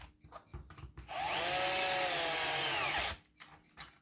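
A small power screwdriver drives M3 screws into a 3D-printed battleship model, whirring in one continuous two-second burst with a rising, wavering pitch, framed by quiet handling noises before and after.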